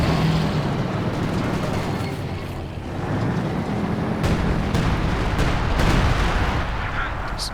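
Artillery shells pound an anti-tank gun position in Company of Heroes 2, a dense, continuous roar of loud blasts and gunfire rolling on without pause, with a voice talking faintly underneath.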